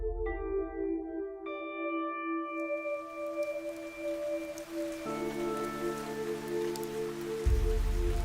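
Steady rain falls in the fantasy RPG Fantasian Neo Dimension, a soft continuous patter under sustained synth tones and game music, with a low thump near the end.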